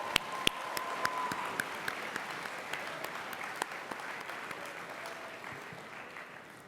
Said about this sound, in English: a big round of applause for you guys for being such an amazing audience